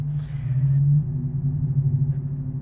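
Uncorked exhaust of a V6 Dodge Charger running without catalytic converters or muffler, a steady low rumble droning in the background for the whole stretch, with no one speaking.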